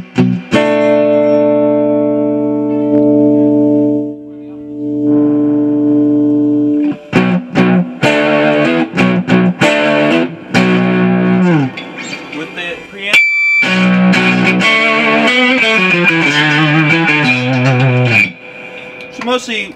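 Sustained notes and chords from a Rick Turner Model I LBU electric guitar played through a heavily distorted amp, loud and close, with sharp breaks between phrases.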